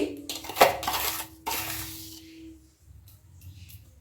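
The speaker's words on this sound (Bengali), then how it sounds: "দু চা চামচ নুন দিলাম সুন্দর করে মিশিয়ে দেবো" Steel spoon clinking and scraping against a pot while salt is stirred into radish and split pea dal, with a sharp clatter near the start followed by softer rhythmic scraping.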